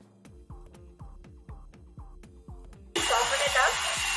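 An electric mixer creams butter in a bowl, starting with a rhythmic low throbbing pulse before jumping to a louder, steady whirring roar near the end.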